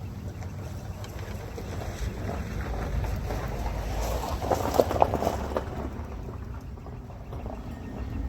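Strong wind gusts roar against the microphone outdoors while a large blue tarp flaps and rustles nearby. The noise is continuous and rough, and it swells to a louder burst partway through.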